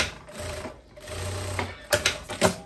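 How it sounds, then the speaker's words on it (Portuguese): Sewing machine stitching the shoulder seam of a long dress, short bursts of fast mechanical whirring with pauses between, close and moderately quiet. "Vão passar uma costurinha fechando um ombro"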